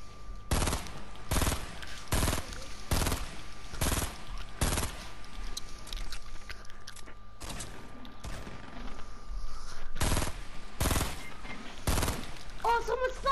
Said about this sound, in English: Bro, they're shooting us